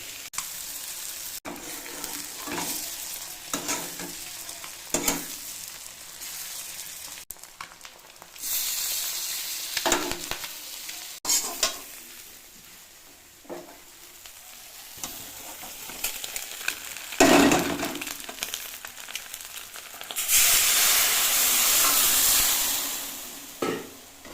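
Taro stems (gathi kochu) frying in a pan for an egg dish, a steady broadband sizzle with repeated scraping stirs, bursts of louder hissing and spattering, and a sustained loud sizzle near the end, close and with no talking.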